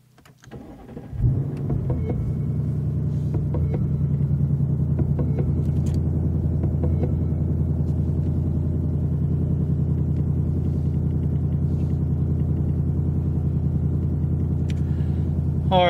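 A Ford Mustang Dark Horse engine cranks and fires, then settles into a loud, steady low idle with a constant throaty rumble lasting many seconds, close up, with no talking.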